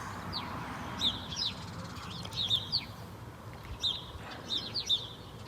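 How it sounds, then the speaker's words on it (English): Birds chirp and sing outdoors by a roadside, repeated bright calls in short phrases over a low steady hum of distant ambience. "Nice to listen to the birds anyway."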